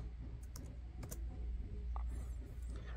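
Several sharp laptop keyboard key clicks, including an Enter key press, sound close and fairly quiet over a low steady background hum.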